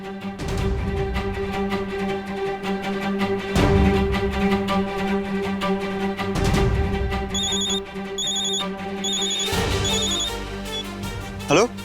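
A telephone rings in a drama serial scene, with a repeating electronic ring pattern in bursts alongside background music and sound effects.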